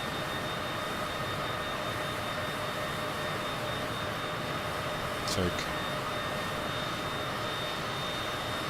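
A jet aircraft engine in Microsoft Flight Simulator produces a constant, dense roar with a high whine that holds for the whole stretch. A voice cuts in briefly near the middle.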